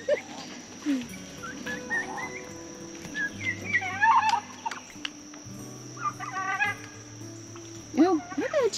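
Poultry calls, likely turkeys among chickens in a backyard flock, come as scattered warbling bursts near the middle and end, over a steady background hum with people talking at times.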